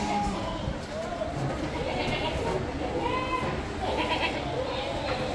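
A large, heavy male goat of a good breed at a goat farm bleats several times, close and fairly loud, against a busy background with people talking throughout.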